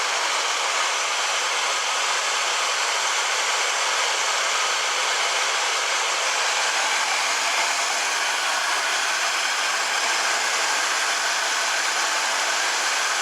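A 1974 Chevrolet Blazer barn-find engine runs with its fan shroud fitted, giving a steady, even whooshing roar at constant level throughout and no speech.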